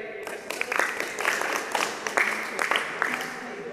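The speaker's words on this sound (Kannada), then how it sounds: "ಸರಿ ಉತ್ತರ, ಚಪ್ಪಾಳೆ ಕೊಡಿ." A group claps in a school classroom for a correct answer at a Kannada-medium tenth-standard social science quiz, a steady patter of many hands lasting several seconds at moderate distance.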